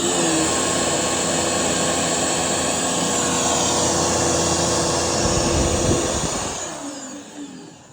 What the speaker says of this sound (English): Turn the vacuum on. This should be spinning around like a tornado.